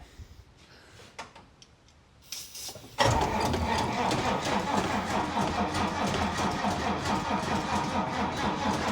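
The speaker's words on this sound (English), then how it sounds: "With only 6 volts, it's gonna crank really slow." An old vehicle parked for 14 years cranks slowly on a 6-volt battery, first with a few scattered clicks and then a loud, continuous labored churning rhythm that runs to the end.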